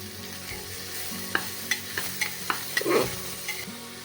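Green peas and chopped tomato fry in a wok for sago khichdi, a steady sizzle with a series of sharp scraping stirs and clinks, one louder burst near the end, with no talking.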